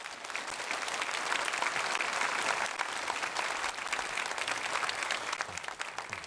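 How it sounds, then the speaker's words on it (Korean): A church congregation applauds to welcome a pastor at a Sunday service, with sustained, even clapping from many hands filling the room for several seconds. "오실 때 박수로 환영하겠습니다."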